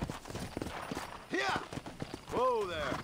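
Horse hooves clip-clop in the Red Dead Redemption video game, a steady rhythmic clatter of footfalls up close, with a voice and a horse's vocal sounds breaking in over them.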